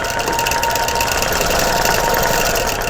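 A sewing machine stitches over an embroidered quilt with a loud, fast, even mechanical whirr and rattle that runs nonstop, close by.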